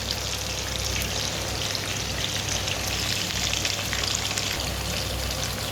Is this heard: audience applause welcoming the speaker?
no